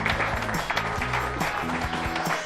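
A TV studio audience claps to welcome a surprise guest on a French talk show, a dense patter of applause with loud music or backing sounds layered underneath throughout.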